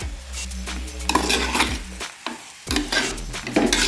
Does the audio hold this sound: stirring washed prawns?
yes